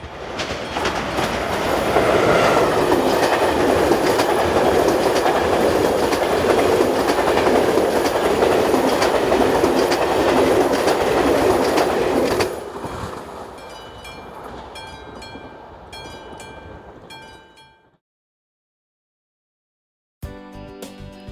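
A train hauled by a Siemens Vectron electric locomotive passes close by on the Tatra Mountain route in Slovakia, with loud, steady rumbling and wheel clatter that fades to lighter clicks before falling silent.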